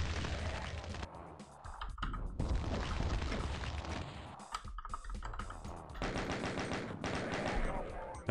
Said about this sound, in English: I'll just take them on with the rocket launcher.